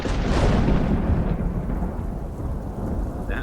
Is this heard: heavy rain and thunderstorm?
yes